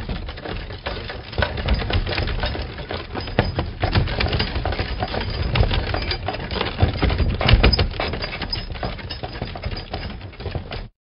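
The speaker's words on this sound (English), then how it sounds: "covered wagon" A wooden covered wagon rolls along with a continuous dense clatter and creak of timber, rattling fairly loudly without pause for about ten seconds before stopping abruptly.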